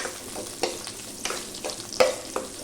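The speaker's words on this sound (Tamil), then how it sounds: "கூடவே வந்துட்டு ஒரு கை ஃபுல்லாக வந்துட்டு கருவேப்பிலையும் போட்டு நல்லா வணக்கிக்கலாம்" Small onions and a handful of curry leaves sauté in hot oil for a mutton curry, a low crackling hiss with a few distinct scrapes and taps of a spoon stirring the pan, near and with no voices.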